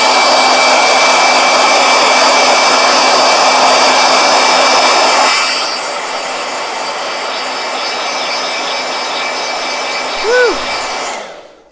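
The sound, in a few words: hair dryer blowing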